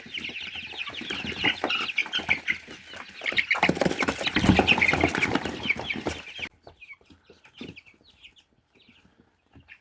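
Chicks cluck and peep busily at close range for several seconds, then the flock goes quiet with only a few soft chirps.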